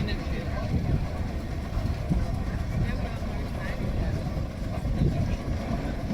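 A Fowler steam ploughing engine driven past at a steam rally in Sheffield makes a steady low rumbling chug that holds at an even level throughout.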